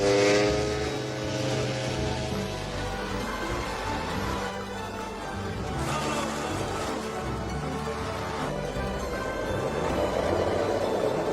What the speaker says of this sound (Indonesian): mereka berdua terbang dengan pesawat kecil